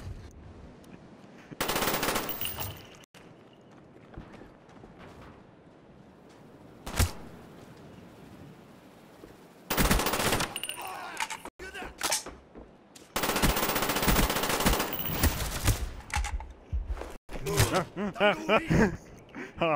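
Gunfire in Borderlands 1: several loud bursts of rapid automatic fire and single cracks, separated by quieter gaps of game ambience.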